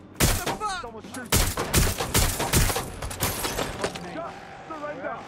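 Repeated gunfire from the video game Watch Dogs Legion, several sharp, loud bursts in quick succession with rapid shots, followed by quieter background game sounds as voices shout between the shots.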